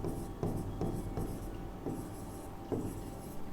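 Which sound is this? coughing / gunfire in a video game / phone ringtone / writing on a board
writing on a board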